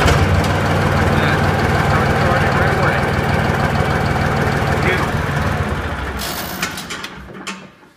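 A diesel tractor engine runs steadily with a rough low chugging, then winds down and cuts off near the end, leaving a few faint clicks.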